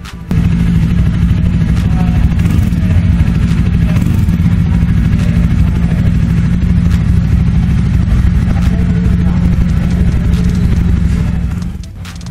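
A Jawa 42 motorcycle engine runs steadily with a deep, throbbing, punchy exhaust rumble from a single pipe, loud and close, holding a constant note before easing off at the end.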